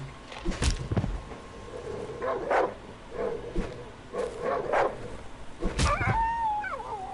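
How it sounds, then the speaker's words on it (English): Dog whimpering in the video game Darkwood: a series of short, high whines and yelps come in separate bursts, ending with a rising and falling whine, fairly close and with no talking. "There's still a dog? Hey, puppy. It's okay."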